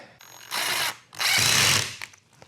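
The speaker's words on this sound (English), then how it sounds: "that is an impact wrench" An impact wrench fires two short, loud bursts of rapid hammering whir, close up, with brief quiet between them and small clicks afterward while mounting a lathe faceplate.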